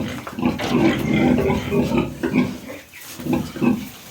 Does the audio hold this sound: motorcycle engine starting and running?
no